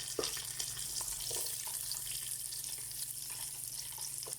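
Onions and potatoes frying in masala in a pot for Pakistani fish biryani, giving a steady, even sizzle and hiss with a low hum beneath and no talking.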